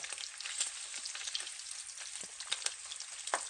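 Bacon and eggs frying together in a single greasy pan, a dense continuous crackle with bright spitting pops, close and steady for a few seconds with no talking.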